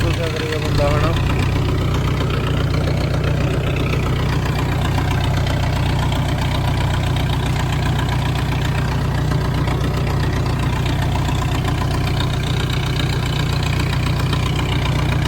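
A spray tractor engine runs steadily nearby on a farm, a continuous low, throbbing rumble that stays loud throughout.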